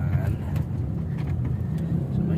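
A car drives along a road, giving a steady, low engine and tire rumble heard from inside the vehicle, with faint voices under it.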